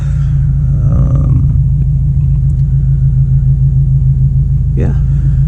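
A 2022 Subaru WRX fitted with a BMS intake, driving with a loud, steady low engine rumble and drone filling the cabin, with brief faint sounds over it.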